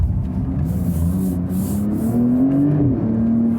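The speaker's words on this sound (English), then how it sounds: "Now the shifting pedals, back to second gear. Now there will be a very sharp left corner" A Porsche 911 Turbo S (992) downshifting toward a sharp left corner, its engine droning loud and close from inside the car as the pitch shifts and rises through the gear change.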